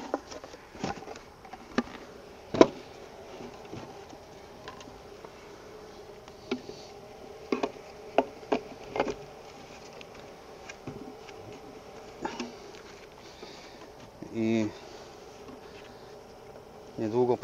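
Faint, steady honey bee buzzing hums in the background around a hive, with occasional soft knocks and taps scattered throughout.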